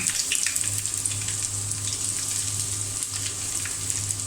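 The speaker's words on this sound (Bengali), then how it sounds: "তেল গরম হয়ে গিয়েছে, আমি এখন পেঁয়াজ দিয়ে দিলাম।" Chopped onion hits hot oil in a pan for noodles, setting off a steady, close hiss of frying that holds fairly evenly for a few seconds with a low hum beneath it.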